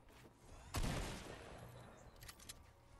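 Gunfire in the video game Fortnite during a squads match: one sharp, loud burst of shots rings out and decays, followed by a few fainter distant pops.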